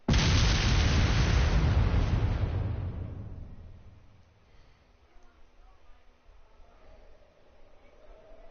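Railway guns fire in the Trails of Cold Steel video game, letting out a loud, heavy boom that rolls into a long, fading rumble, followed by faint low background noise.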